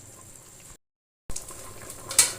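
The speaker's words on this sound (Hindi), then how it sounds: "अब हम इसको अच्छी तरह भूनेंगे" Beef karahi with water simmers in a pot: a steady bubbling hiss that drops into a brief silence, then resumes with a short sizzling flare near the end. No one speaks.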